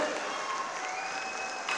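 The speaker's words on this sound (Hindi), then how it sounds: "जोर से ताली बजाओ रवि के लिए" Applause from a crowd at a political rally stage, a steady wash of clapping close by that swells again at the end, with a voice speaking over it.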